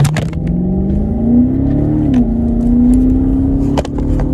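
A 2007 Infiniti FX45 engine revs, its deep hum rising and falling in pitch over a few seconds, loud and close with some clunks and no talk.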